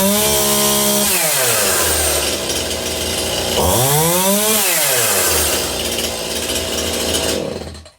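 A Stihl chainsaw engine runs loud and close, idling roughly before revving up and down in two swelling sweeps, then cutting off abruptly at the end.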